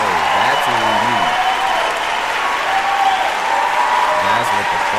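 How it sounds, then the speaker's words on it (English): Steady audience applause runs throughout as a continuous wash of clapping, while a voice talks over it briefly at the start and again near the end. "I gotta clap it up for that."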